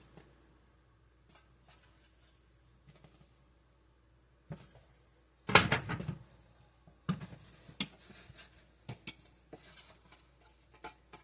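Pieces of buttery puff pastry being pressed into a greased loaf pan, quiet handling at first, then a louder run of metallic pan knocks and clatter with scattered dull taps, close up and without speech.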